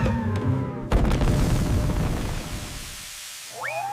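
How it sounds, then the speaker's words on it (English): A cartoon explosion as ice cream erupts into a fountain of goo: a sudden loud boom that rolls into a long, fading rumble, followed by a brief rising squeak-like tone. "Explosion! The ice cream erupts into a fountain of goo."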